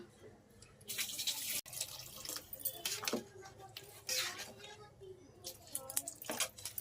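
Water splashes and trickles in uneven bursts into a pot of chole being cooked for bhature, faint and close, with light clinks between pours.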